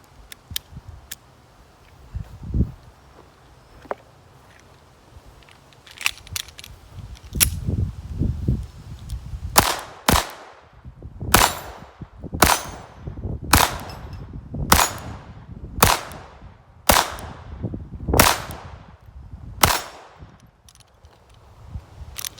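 A Ruger LCP II .22LR pistol fires Federal rounds, about ten sharp, loud cracks spaced a second or so apart after some handling clicks and rustling, close and outdoors.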